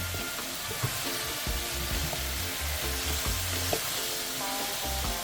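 Carrot, pumpkin and chocho simmer and fry in a pot for snapper in coconut milk, making a steady close sizzle with occasional small pops and clinks, with no voices.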